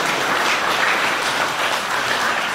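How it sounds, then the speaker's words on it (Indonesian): A brief, steady patch of audience clapping during a talk on esoteric Buddhism, dense and fairly loud with no voices over it. "Tepuk tangan dong"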